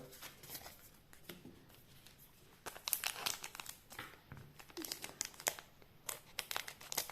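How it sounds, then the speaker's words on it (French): Crinkly plastic foil of a sealed Japanese One Piece card booster pack crumples and tears in a string of close, sharp rustles that grow busier and louder partway through, with no voice over them. "On est obligé de les couper au ciseau parce qu'ils sont tellement bien scellés."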